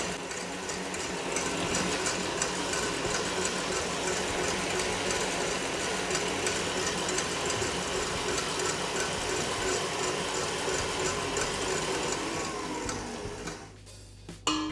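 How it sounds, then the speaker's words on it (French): Electric mixer whipping egg whites and sugar into firm meringue in a bowl, a dense, loud, continuous mechanical whir with rattling texture that runs unbroken, then cuts off abruptly near the end. "Je peux arrêter le batteur."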